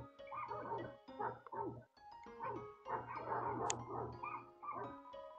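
Dogs in the video game Undertale bark and yap in repeated short bursts, several rhythmic barks with brief pauses, clear and close against a quiet background.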